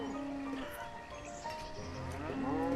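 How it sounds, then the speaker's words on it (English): Cows in the village-building game Banished moo in long, drawn-out calls, one early and another near the end, with softer lowing and faint ambient game sounds between them. "the cows are kind of impatient"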